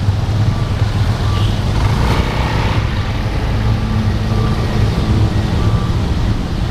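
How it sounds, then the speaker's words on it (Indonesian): Heavy, jammed traffic on the Makassar–Maros main road produces a steady, loud rumble of car and truck engines with wind buffeting the microphone. It carries on unbroken with no talking. "parah macet."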